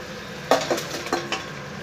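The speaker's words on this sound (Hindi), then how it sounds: "अब यहाँ पर चिकन पीसेस को डाल देना है।" Chicken pieces go into a hot pan for chicken masala, giving a few short clattering knocks against the pan over a faint sizzle, with no talking.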